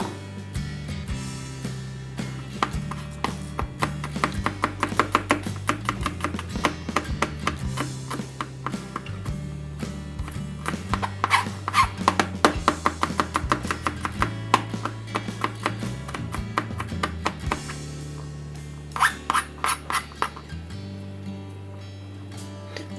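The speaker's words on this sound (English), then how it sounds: "Okay, I'm going to chop this up." Knife chopping red onion on a cutting board, a long run of rapid, close, rhythmic taps that speed up and slow in bursts, with a few short pauses, over faint background music.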